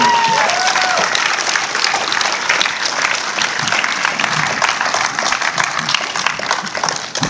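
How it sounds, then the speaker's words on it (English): Film festival audience at a horror screening Q&A giving a loud, continuous round of applause that fills the room for over seven seconds, with scattered voices and a brief whistle near the start. "Give a round of applause."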